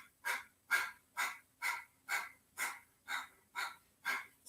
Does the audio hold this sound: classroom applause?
no